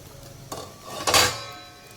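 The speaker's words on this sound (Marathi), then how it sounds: "त्याच्यावरती आपण असं झाकण ठेवूया परत" A metal lid set down on a cooking pan while dosa batter is prepared, giving a soft tap followed by a brief clattering rattle, near and alone.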